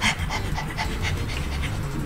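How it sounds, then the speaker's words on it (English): An overexcited dog pants in the Undertale video game as it is petted, giving rapid, rhythmic breathy huffs that repeat steadily and sound close and clear without any talking. "You lightly touched the dog. He's already overexcited."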